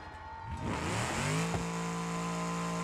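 Car engine in BeamNG.drive revs up steadily, its pitch climbing and then holding at a loud, continuous drone with no talk over it.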